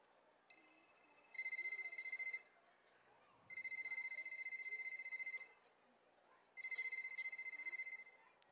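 An electronic telephone rings three times in long warbling bursts with short gaps, heard over a quiet hall background during a school annual day stage skit.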